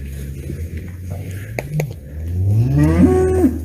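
A cow moos loudly and close, a long, rising, drawn-out call over low farmyard rumble.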